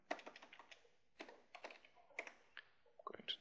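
Fingers type on a computer keyboard in quick, quiet clusters of key clicks separated by short pauses, close and isolated.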